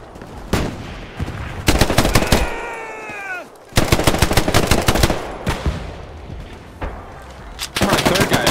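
Machine guns rattle in Hell Let Loose, a World War II shooter, in loud repeated bursts of rapid shots separated by short pauses, with a brief whistling sound between two bursts.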